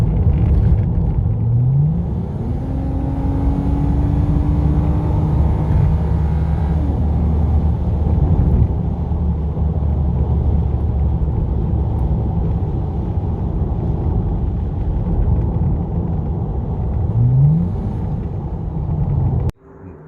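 A Lexus car drives along with a steady, loud low rumble of engine and road noise inside the cabin, with a couple of brief rising engine notes as it accelerates.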